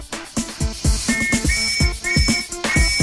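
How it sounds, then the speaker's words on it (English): A metal whistle blown with compressed air gives a series of short, sharp, shrill chirps and trills in quick irregular bursts, loud and close, with no talk. "They test each whistle with compressed air."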